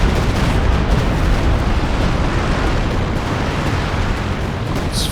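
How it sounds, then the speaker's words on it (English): Howitzer shells and air strikes exploding in Company of Heroes 2, a 3v3 World War II match: a dense, continuous roar of rumbling blasts at steady loudness, with no distinct separate booms and no talk. "Howitzers coming in as well."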